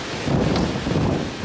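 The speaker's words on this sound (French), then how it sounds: "t'as vu le vent qu'il y a?" Strong gusty wind in a storm roars and buffets the microphone outdoors with a broad, rushing rumble, loud and continuous throughout with slight surges, and no voices present.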